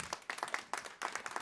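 A stand-up comedy audience at a Christmas special answers a question by clapping: a brief, sparse smattering of a handful of claps in loose bursts, quiet and somewhat distant.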